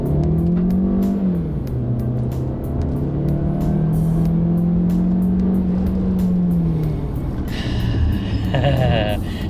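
Jetour X70 Plus SUV engine revved while standing still, a loud steady drone that climbs and holds then falls back, heard from inside the cabin with faint clicks and a brief chime near the end.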